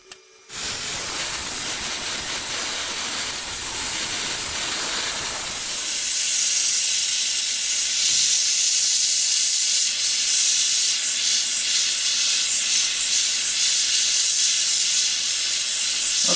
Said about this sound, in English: I'm just using the oxy fuel torch